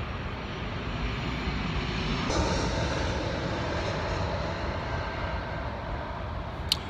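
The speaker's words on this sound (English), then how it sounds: "Here comes a plane." A fixed-wing airplane passes overhead, a steady broad engine roar that swells slightly around the middle and holds at moderate loudness throughout, with no talk.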